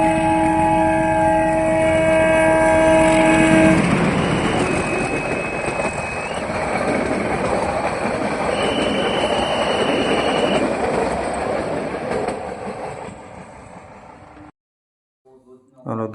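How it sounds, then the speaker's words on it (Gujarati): A train rolls past close to a railway line, loud and rumbling, with steady horn-like tones at first, then a long clattering roar before cutting off abruptly near the end. "ટ્રેન આવે છે, તો તમને હું ટ્રેન બતાવું છું"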